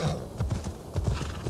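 A horse gallops in the video game Assassin's Creed Valhalla, its hooves pounding in a quick, rhythmic clip-clop that is loud and close, with no talk over it.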